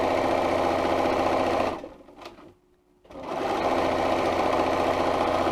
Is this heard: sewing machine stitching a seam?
yes